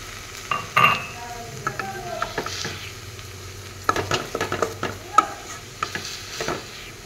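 A spoon stirs fish curry with pumpkin in a pan after water has gone in, making scattered scrapes and light clinks against the metal over a quiet simmering sizzle.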